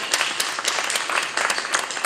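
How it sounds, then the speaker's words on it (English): Audience applause at a school board meeting, a steady patter of many hands clapping through the whole stretch, moderately near and fairly even in intensity. "So, yeah, we can clap it up."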